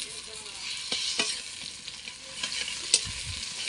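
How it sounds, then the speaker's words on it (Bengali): Spice paste with chopped tomato and garlic paste sizzling and being stirred in a hot pan for mutton curry, a steady crackle broken by a few sharp scrapes of the spoon. "দিয়ে ভালো করে আমি মশলাটা কষে নেব"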